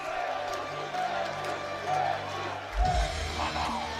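Large crowd of about 2,000 people cheering at a powerlifting deadlift event, a steady roar throughout that swells louder near the end, with voices mixed in.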